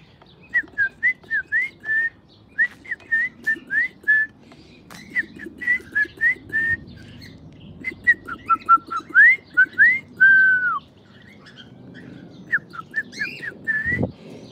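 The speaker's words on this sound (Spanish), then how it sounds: "Aquí están mis cacatúas" Caged yellow cockatoos at a house call in a long series of short, bright whistled chirps at a steady rhythm, fairly close, with a harsher squawk near the end.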